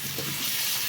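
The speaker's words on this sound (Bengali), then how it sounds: "আমার আলু ও পেঁয়াজ একসঙ্গে ভাজা হচ্ছে এবং সেদ্ধ হয়ে যাচ্ছে" Potatoes and onions fry together in a pan, giving a brief, bright, steady sizzle and hiss lasting under a second.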